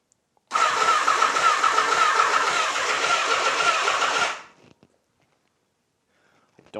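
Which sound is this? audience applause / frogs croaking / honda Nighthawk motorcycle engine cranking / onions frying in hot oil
honda Nighthawk motorcycle engine cranking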